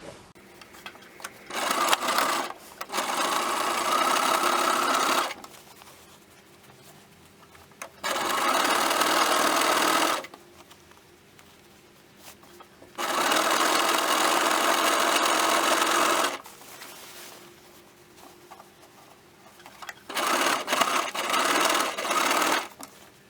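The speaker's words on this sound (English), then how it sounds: "Then we're just going to sew our top hem." A sewing machine hums close by as it stitches the top hem of a shirred elastic-bust dress. It runs in four bursts of a few seconds each, with quiet gaps between them.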